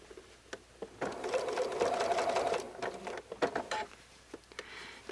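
A sewing machine stitches the seam of a unicorn toy slowly, running in a steady whir for a couple of seconds between short stop-start bursts; close and quiet.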